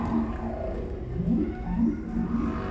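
Whale vocalization underwater: several low, moaning tonal calls repeat across the stretch over a steady dense rumble, fairly loud and close, with no voices.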